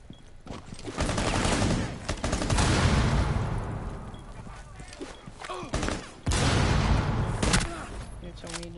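Grenade blast and rapid gunfire in the tactical shooter game Rainbow Six Siege, loud bursts of shots and booms repeating across the clip, with a voice talking over the action.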